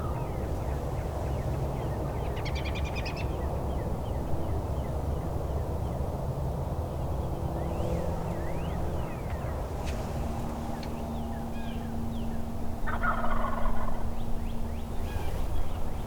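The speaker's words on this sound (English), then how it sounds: "There's multiple birds gobbling back up in there." Several wild turkeys gobbling far off in the woods, a few distant rattling bursts spaced apart over a steady low background rumble, with no talking.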